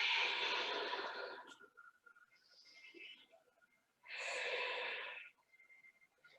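Slow, deep breaths are drawn and released during a held yoga pose, a long airy exhale, then a quiet pause and another full breath, close and soft.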